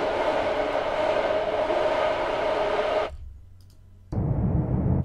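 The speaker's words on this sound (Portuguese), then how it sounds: "como se fosse o Noise Oscillator, né?" Noise oscillator in the Vital synthesizer producing a loud steady hiss that cuts out abruptly, leaving a low hum for about a second, then returns as a darker, duller noise burst.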